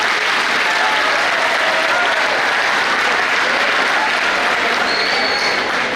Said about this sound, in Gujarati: 11 વર્ષનો ગુકેશ, તાળી પાડો એના માટે.